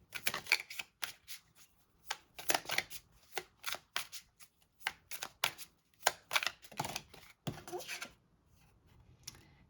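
A deck of tarot cards is shuffled and drawn close up: quick, crisp riffling and flicking bursts come in an irregular rhythm, quiet against a silent background.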